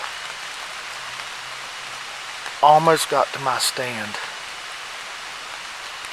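Steady rain hisses through the woods during a West Virginia October archery hunt, an even wash of falling drops throughout, with someone briefly speaking quietly over it midway.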